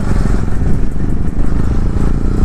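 Motorcycle engine running steadily at night, a loud continuous near drone with some clatter, no talk over it.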